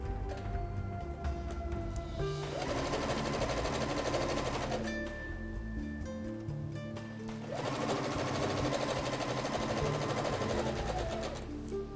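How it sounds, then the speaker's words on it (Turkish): A sewing machine runs a straight stitch along the opening of a bag, two steady bursts of fast rhythmic whirring and needle clatter separated by a short pause, close and loud. "Ve en baştan muntazam bir şekilde çantamın ağız kısmını dikiyorum."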